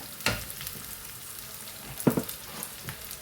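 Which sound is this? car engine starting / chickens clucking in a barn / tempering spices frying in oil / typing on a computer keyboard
tempering spices frying in oil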